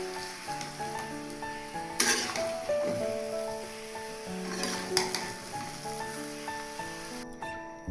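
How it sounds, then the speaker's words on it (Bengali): Tender bottle gourd stir-frying with cooked-down spices in a pan, a low sizzle with a few louder scrapes of stirring, partly masked by steady background music. "এই পর্যায়ে আমি দিয়ে দেব লাউ। মশলার সঙ্গে ভালোভাবে লাউ কষিয়ে নিতে হবে।"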